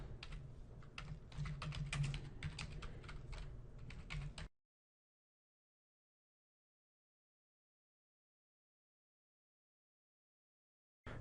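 Computer keyboard typing a workflow name in a requisitions program, a rapid, steady run of quiet, close keystrokes lasting a few seconds, then silence.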